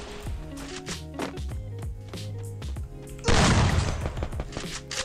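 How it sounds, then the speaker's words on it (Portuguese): Video game gunfire crackles over a musical backdrop, several shots followed by a loud burst of noisy blasts partway through, during a ranked match. "Deu um tiro, né, Takas?"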